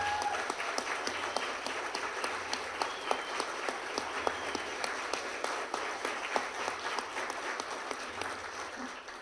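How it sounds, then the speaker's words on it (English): Audience at a speech applauds for John Schlafly, sustained even clapping from a crowd, fairly distant and moderately quiet, continuing steadily throughout. "Big round of applause for my friend John Schlafly."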